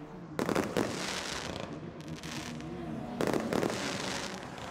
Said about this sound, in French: se couche lentement sur Spa-Francorchamps avec l'arrivée de la nuit et son traditionnel feu d'artifice